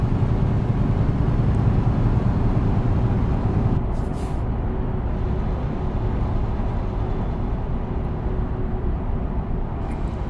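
Truck air brake on the road, a constant loud low engine and road rumble with a brief sharp hiss of released air partway through, close and alone without talk.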